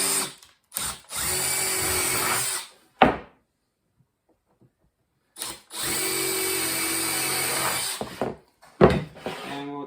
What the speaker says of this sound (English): I'm going to be drilling, I think it's about a 5/64 drill into each corner of the top of the leg.